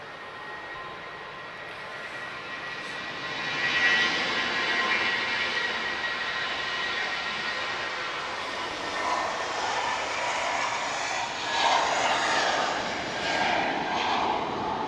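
A Star Air airliner taxiing at Lisbon Airport, a distant steady jet engine whine and rumble that swells slightly at times, heard alone without voices.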